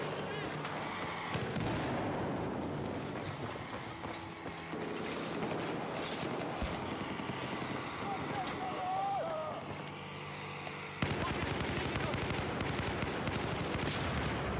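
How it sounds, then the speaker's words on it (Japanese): Heavy gunfire in the Battlefield 4 shooter game, a dense continuous rattle of shots and rumbling battle noise, with a person talking over it, turning suddenly louder and busier near the end. "超撃ってきてる。"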